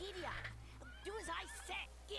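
A horse whinnies in a Dragon Quest VIII video game scene, rising and falling neighs over steady background game music, fairly close.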